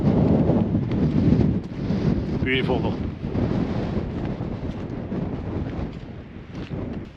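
Strong wind buffets the microphone with a constant roar and gusts throughout, and a person briefly speaks partway through.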